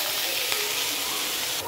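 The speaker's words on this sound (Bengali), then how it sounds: "এই যে ফুলকপি দিয়ে আলু দিয়ে লঙ্কা দিয়ে ভাজছি।" Cauliflower, potato and chilli frying together in a pan, giving a steady, close, fairly loud sizzle that runs continuously with no talk over it.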